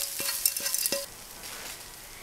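A few quick scraping stirs of a rice and artichoke mixture in a pan, three distinct strokes close by, followed by a quieter stretch of faint background noise.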